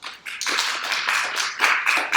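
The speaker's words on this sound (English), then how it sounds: "Please give him a round of applause." Audience applause for a speaker at a talk, close and loud, with a burst of many quick overlapping claps that starts sharply and holds steady for about two seconds.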